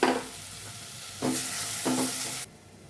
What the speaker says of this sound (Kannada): ಈರುಳ್ಳಿ ಫ್ರೈ ಮಾಡ್ತೀನಿ ಈಗ ಪಾಲಕ್ ಸೊಪ್ಪು ಕಟ್ ಮಾಡಿದ್ನಲ್ಲ ಅದು ಹಾಕ್ಕೋತಾ ಇದ್ದೀನಿ ಫ್ರೈ ಮಾಡ್ಕೊಳ್ಳೋಣ ಇಲ್ಲಿ